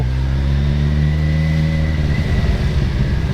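A 2013 Kawasaki Z1000 motorcycle cruising steadily, its engine giving a loud, continuous close-up drone with a slight rise and roughened rumble toward the end, no voices.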